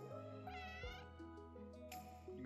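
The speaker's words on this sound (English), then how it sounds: "You can play with the kitty cat." A cat meows in the iNZOI life-simulation game, a few clear drawn-out meows with pitch rises, quiet and alone with no talk.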